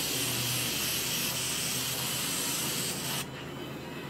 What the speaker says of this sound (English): So you want to spray this